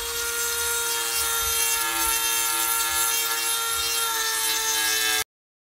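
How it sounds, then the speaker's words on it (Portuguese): A mini rotary tool fitted with a small stone grinding bit whines steadily as it grinds a ceramic bonsai pot being repaired with kintsugi, a loud, continuous high-pitched rasp that cuts off sharply near the end. "Eu estou usando uma pontinha de lixa de pedra que vem nas mini retífica"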